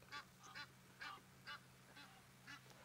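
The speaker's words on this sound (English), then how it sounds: "The Egyptian geese, incessantly making noise, is what they do." Repeated harsh honking calls of Egyptian geese, about six in a steady rhythm, moderately distant against a low background hum.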